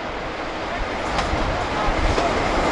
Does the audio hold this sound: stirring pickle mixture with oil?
no